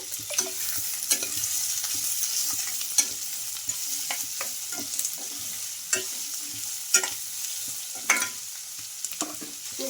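Onions with salt and curry leaves fry in a pan, a soft steady sizzle broken by repeated scraping stirs of a spoon, with no voices.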